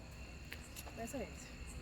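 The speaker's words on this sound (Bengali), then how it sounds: "ঝিঝি পোকার ডাক লাগছে" Crickets chirp at night at a hilltop staycation, a faint continuous high trill in a dark outdoor setting, with soft voices mixed in.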